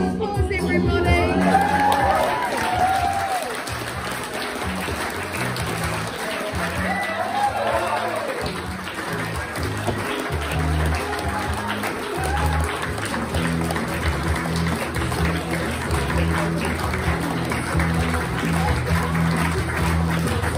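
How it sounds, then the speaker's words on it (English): A wedding audience applauds and cheers in a sustained wash of clapping that carries on throughout, with scattered shouts and voices in the crowd. "Let's give a big round of applause, everybody."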